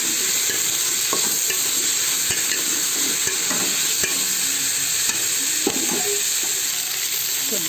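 Brinjal pieces frying in a pan for brinjal bajji, a constant close hiss of oil with occasional light taps and scrapes from stirring.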